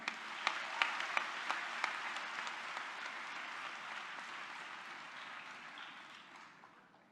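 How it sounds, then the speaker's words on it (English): Applause from an audience welcoming a speaker at a book release, opening with a few sharp distinct claps, then blending into a broad, steady wash that slowly fades toward the end. "We now like to invite you, sir, amidst all the thunderous applause"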